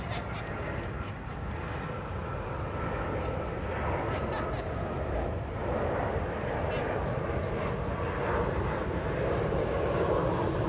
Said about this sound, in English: I also want to wait for this plane to pass over.